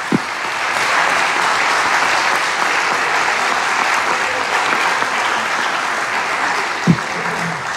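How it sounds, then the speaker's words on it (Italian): Steady, sustained applause from an audience at a cultural and sports peace event in Rome, dense clapping that holds evenly throughout with a single louder knock near the end. "Un bel applauso di buon augurio."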